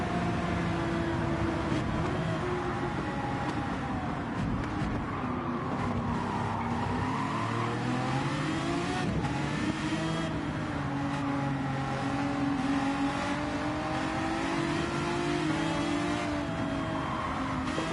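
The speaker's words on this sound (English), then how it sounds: "It's almost like a Formula 1 car, this." A Formula 1-like race car in a racing video game holds a steady, loud engine drone whose pitch climbs and dips as the throttle rises and falls, running continuously with no talk.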